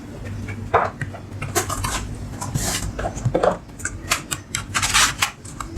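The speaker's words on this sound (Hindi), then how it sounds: "ये कीबोर्ड लगा लेना है" Plastic clicks and taps as a laptop keyboard is pressed and fitted into place in a Dell laptop during repair, a quick series of close, light knocks and rattles.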